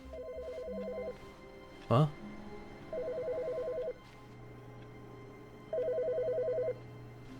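A telephone rings in The Stanley Parable with three evenly spaced electronic trills, each lasting about a second. A brief sharp thump falls between the first two, and a faint low hum runs underneath.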